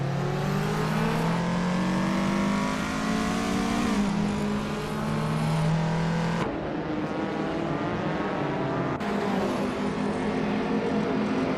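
Racing car engines in a racing video game, including a 1984 Ford Fiesta XR, a steady loud drone of several revving engines with rising and falling pitch as cars shift gears, continuous without talk.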